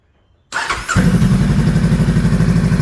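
Honda Rebel 500 fitted with a Coffman's exhaust, baffle left in, firing up inside a closed shed: a sharp starter crank, then the engine catches into a loud, close, throbbing idle with a rapid steady pulse.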